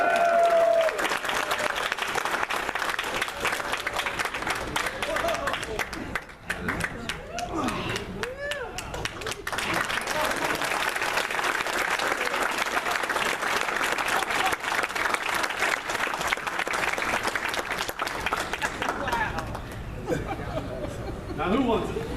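A large crowd claps and cheers steadily throughout, with scattered whoops and voices rising over the applause.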